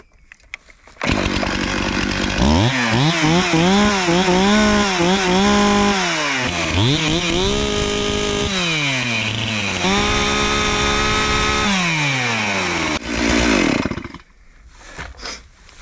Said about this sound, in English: The Stihl for me is a little higher pitched and a little more painful